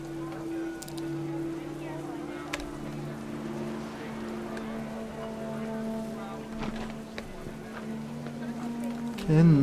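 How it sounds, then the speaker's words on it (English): Heavy rain falls in the video game What Remains of Edith Finch, a steady, dense wash that runs throughout beneath sustained musical tones and a voice. "The rain came down in buckets then"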